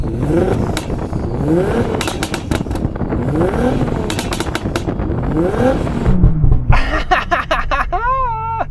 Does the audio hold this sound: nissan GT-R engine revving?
yes